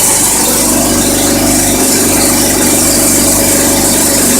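Small gasoline engine of a 12-volt battery-charging generator running at wide open throttle after a fuel-starvation fix: a loud, constant droning roar with steady rattle, close up and unbroken throughout, with no talking.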